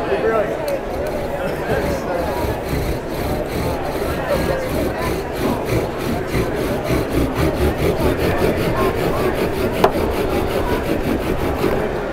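A wooden friction fire drill spins hard in a wooden bowl socket at a self-reliance expo, giving a steady, rhythmic rubbing and grinding with quick back-and-forth strokes throughout, close and fairly loud.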